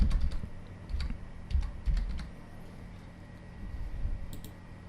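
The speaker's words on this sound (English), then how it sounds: "So let me type again." Keys tap on a computer keyboard in short irregular bursts, close and fairly quiet, with no talking.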